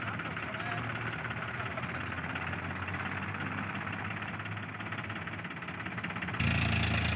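Mahindra 265 DI tractor engine running steadily at a low, throbbing idle, close by and continuous, growing slightly louder near the end.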